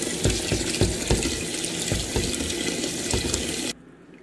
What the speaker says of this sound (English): Adding fresh water, stirring it up until your water runs clean.